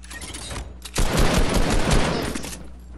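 Video game gunfire bursts out in a loud, sustained volley of rapid shots after a short lead-in of quieter firing, then tapers off near the end.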